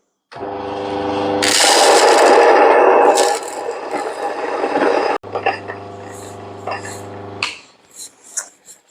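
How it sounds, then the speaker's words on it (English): A Mockmill 100 electric grain mill grinds Himalayan salt crystals, a loud motor hum with harsh crunching rasp that swells, dips briefly, then resumes before winding down into a few rattling clatters at the end. "I just need to grind it up first. For that, I'm going to be using my Mockmill 100 from ecohub.co.za."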